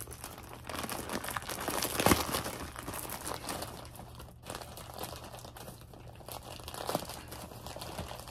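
A plastic shipping bag from a clothing haul crinkles and crunches steadily up close, with a few louder rips as it is torn open, and no voice over it.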